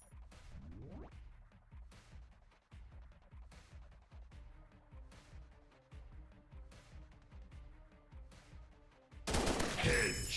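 Gunfire in a shooting video game comes as repeated sharp shots in fairly regular bursts at moderate level, ending in a sudden loud, noisy blast.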